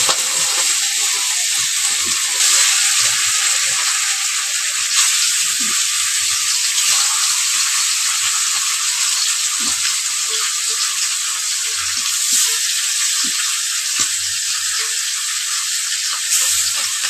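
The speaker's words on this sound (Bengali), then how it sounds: "আগে মাছগুলোকে, বড় মাছগুলোকে ভাজবো" Big fish fry in a pan with a loud, continuous hissing sizzle that stays close and even throughout, with faint low knocks underneath.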